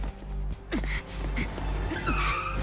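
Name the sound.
car skidding in an anime episode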